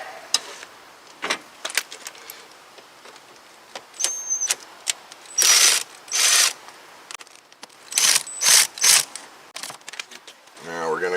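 Ratchet loosening screws during starter motor removal on a 9th-generation Toyota Corolla, heard as bursts of rapid clicking and whirring, several short runs separated by pauses, close and fairly loud, with a voice near the end.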